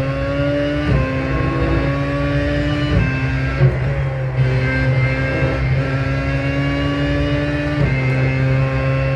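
Race car engine in the iRacing sim, driven with zero minimum force-feedback setting: a steady, loud engine drone with gear-shift steps in pitch at about 1, 3 and 8 seconds, with no talk.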